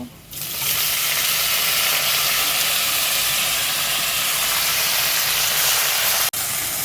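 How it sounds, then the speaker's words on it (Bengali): Leafy greens dropped into a hot pan, a sudden loud hissing sizzle that holds steady and close for several seconds before cutting off briefly near the end. "এবার শাকগুলো দিয়ে দেবো"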